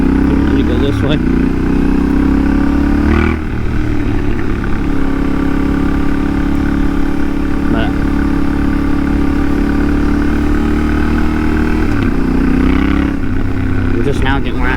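A 2023 Yamaha Tenere 700 motorcycle fitted with a Huzar exhaust runs with a close, steady engine drone. Brief dips at about one, three and twelve seconds sound like gear shifts or throttle changes.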